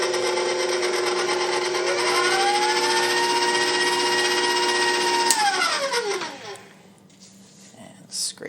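Electric mixer beating cake batter with buttermilk, a steady whirring motor hum that rises in pitch, holds, then winds down and stops, with quiet talk in the background.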